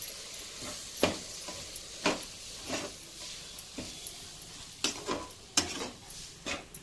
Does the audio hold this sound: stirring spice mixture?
yes